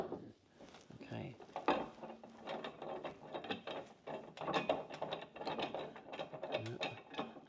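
Socket ratchet clicking in bursts as it tightens the mount bolts of a spare wheel cradle on a Land Rover Defender, close by, with occasional voice in the background.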